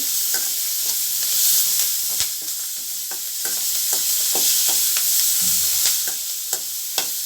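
Sizzling and frying of tomato, turmeric, ginger and garlic in a pan for capsicum chutney, with repeated stirring clicks and scrapes of a utensil, steady hiss throughout, no voices.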